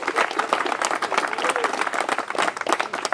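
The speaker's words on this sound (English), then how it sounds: "Let's give them another round of applause." Outdoor crowd at the 2013 Boonsboro Green Fest opening ceremony clapping after the national anthem, uneven, fairly light applause with audible individual claps that rise and fall over a few seconds.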